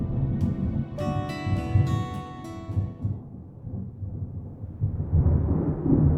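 Deep rolling thunder in the video game Deadly Premonition 2 during an approaching thunder snow storm, a low sustained rumble that swells and fades beneath a sustained musical tone.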